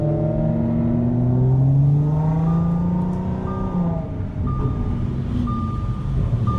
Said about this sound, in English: E92 sounds so good.